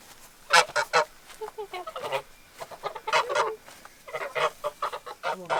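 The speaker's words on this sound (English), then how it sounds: "Trying to work and all I do is trip over geese." Geese honking repeatedly in loud, close bursts, several birds calling over one another in irregular clusters with short pauses, no talking.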